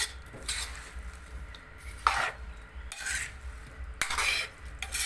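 A utensil stirring river fish curry with fern greens in a pot after water goes in, several close scraping and clinking strokes against metal over a faint simmering hiss, with no talking.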